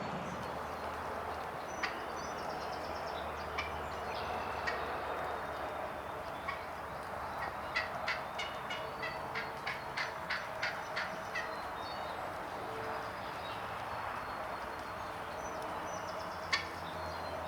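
A wild turkey hen yelps from the woods beside a field, a faint, distant series of short rhythmic calls that comes in bursts over quiet outdoor ambience.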